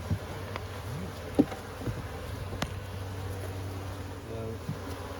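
Honeybees during a hive inspection give off a continuous soft buzzing hum, fairly close, with occasional knocks and handling noises and no talk over it.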